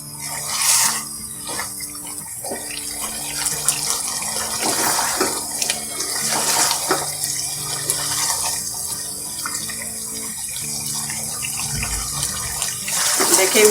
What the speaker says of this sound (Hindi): अब इसका पानी खुश्क होने तक इसको फ्राई करेंगे।